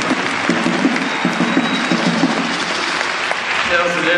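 An audience at the official launch ceremony of the FHB year in Côte d'Ivoire applauds with steady, dense clapping throughout, with a voice over a public address system carrying across it.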